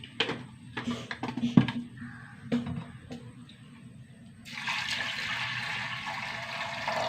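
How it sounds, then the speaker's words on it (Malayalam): Water is poured into a pot of washed lentils with turmeric, starting after a few clinks and taps and then becoming a steady, gushing pour that continues to the end. "വെള്ളം ഒഴിച്ച് കൊടുക്കും"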